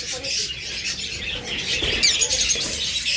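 Pet birds kept in a cage at a bird sale chirp and squawk in short bursts nearby, with some wing flutter and a background of low voices.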